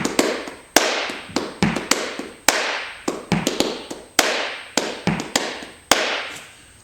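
Flamenco palmas are clapped por bulería in a fast twelve-beat pattern. Sharp, crisp hand claps land in uneven accented clusters, some louder and some lighter, close and alone without any voices.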